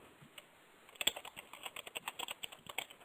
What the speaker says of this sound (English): I'm typing at the same time.